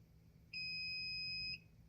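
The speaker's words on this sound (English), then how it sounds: "You heard it beep" A single sustained electronic beep, clear and tonal, lasts about a second over a quiet low hum, from a Tesla Model 3 or Model Y fitted with aftermarket wireless RGB door handles, while the P button is held.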